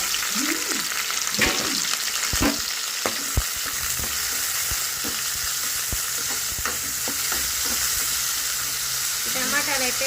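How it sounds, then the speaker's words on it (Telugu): Onions and tomatoes fry in hot oil in a pan with a steady, close sizzle throughout, punctuated by scraping stirs and occasional utensil knocks. "ఆనియన్స్ అయితే బాగా ఫ్రై చేసుకోవాలి అలానే టమాటా కూడా"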